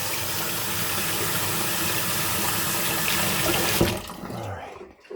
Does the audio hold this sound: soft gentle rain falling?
no